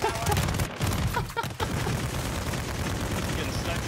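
Gunfire in a Call of Duty online match with snipers, loud dense bursts of shots crackling close in near-continuous volleys with only a brief lull.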